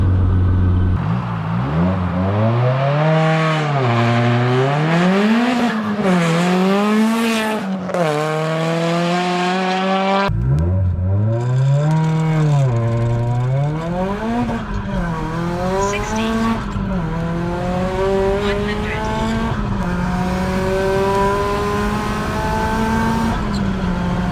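A built 410hp Nissan S15 Silvia Spec R accelerates hard in performance tests, its loud engine climbing through repeated rising revs and gear changes, then pulling again in a second run.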